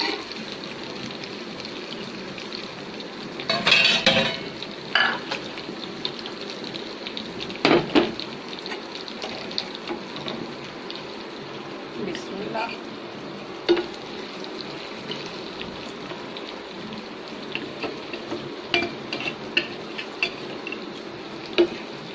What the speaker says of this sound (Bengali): আজকে সরিষার তেল দিয়ে মাছ ভাজা করেছি, যেহেতু এটা ইলিশ মাছ